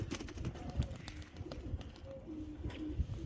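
Soft pigeon cooing, several low throaty calls over a steady background of rustling and faint noise, fairly close.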